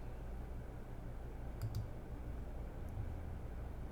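Computer mouse clicks while choosing a photo in an image editor, two quick faint clicks close together followed by a single softer one over quiet room hiss.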